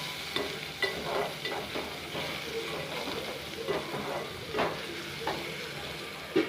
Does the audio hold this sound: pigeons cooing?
no